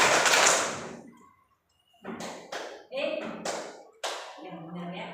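Group hand claps in short bursts, a quick pattern of two claps repeated, with a pause between sets and a voice calling out between them.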